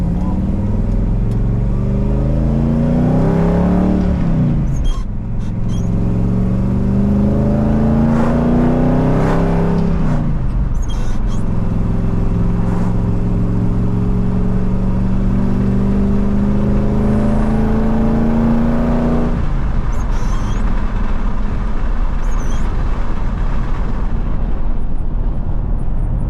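A junkyard Bullnose Ford F150 pickup with a manual clutch drives along at a steady pace. Its engine drones continuously and loudly, with harmonic pitch climbing through several gear changes, and voices talk inside the cab.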